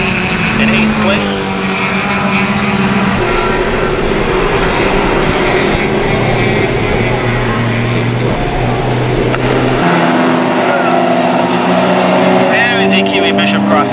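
Closed-wheel race cars, among them a BMW and an S2006, roar past the finish line at Mission Raceway during an afternoon race, a loud continuous engine drone with shifting pitches as cars pass one after another, under a commentator's voice.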